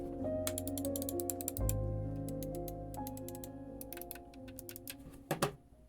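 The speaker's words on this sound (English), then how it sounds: "here's just one more sound test, including the middle mouse button and the DPI buttons" Buttons on a Glorious Model I 2 mouse, including the middle and DPI buttons, are pressed in quick uneven runs of sharp, close clicks over a faint steady hum.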